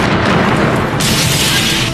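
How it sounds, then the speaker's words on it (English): A massive bomb goes off outside the American embassy in a busy city. A loud, dense roar of blast and debris fills the whole clip and surges brighter halfway through. "the air is shattered by a massive explosion"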